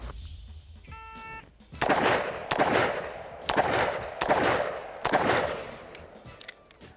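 Five shots from a classic Smith & Wesson revolver fired at a bear target, loud sharp reports spaced roughly a second apart, each followed by a short ringing echo, with a brief electronic beep just before the first.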